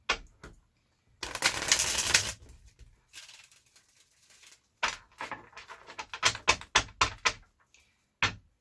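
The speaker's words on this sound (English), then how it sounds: "Alright, okay, I'll shuffle." Crisp bursts of tarot cards riffling and slapping together, a long shuffle followed by quick scattered flicks and taps, close by with no talking.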